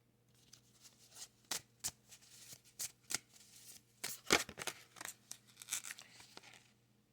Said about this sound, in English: I'm just going to shuffle one more time here and cut the cards.